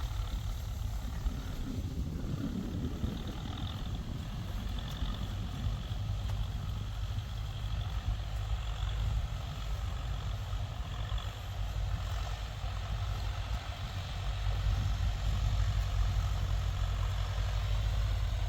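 A low, steady John Deere 6095B tractor engine rumble with a heavy droning bass, growing slightly louder toward the end as the tractor draws closer; no voices.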